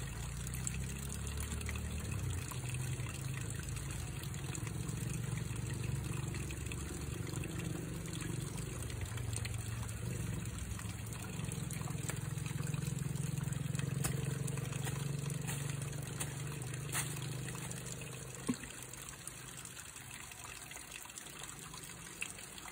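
Water dripping and trickling faintly from a rain catchment in a village during rainy weather, a soft, steady low wash with a quiet continuous hum and a couple of small clicks near the end, no voices.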